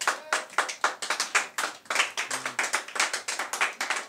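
Church congregation clapping in a fast, steady rhythm, many hands together and fairly close, continuing without a break.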